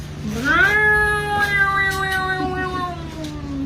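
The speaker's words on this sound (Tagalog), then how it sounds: "Pusa." A cat gives one long, drawn-out meow that rises and then slowly falls, loud and close, over a steady low hum.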